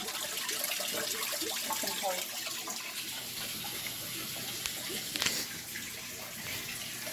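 Water pouring and splashing steadily into an aquarium tank during a water change, a continuous gurgling wash with a faint voice murmuring underneath.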